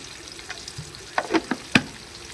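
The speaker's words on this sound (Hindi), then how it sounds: "अच्छा हमारे मसाले जो है ना अच्छा तरीके से जो है ना भुनाई हो रहे हैं।" Spices with chilli and salt frying in a pan in a village kitchen, a soft sizzle with a few sharp stirring scrapes and crackles toward the end, close and fairly quiet, no talk.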